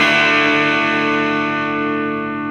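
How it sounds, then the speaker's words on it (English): A guitar chord rings out loud and sustained through a Vox Cambridge 50 modelling amp, thick with effects and distortion, slowly fading over a steady layer of hiss. "when I play a chord, overlaying the chord there's a nasty hissing sound"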